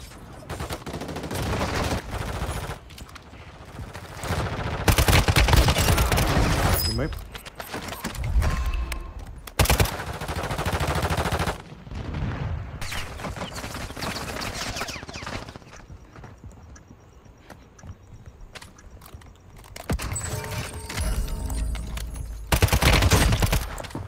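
Bursts of WSP9 submachine gunfire in Warzone Mobile, several loud rapid volleys separated by quieter gaps with faint background game noise.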